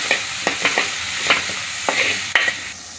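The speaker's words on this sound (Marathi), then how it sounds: "आणि परत परतून घ्यायचं चांगलं।" Tomato, chilli and ginger-garlic paste being sautéed in a pan for egg masala: a steady close sizzle broken by repeated sharp scrapes and taps of a spoon stirring against the pan.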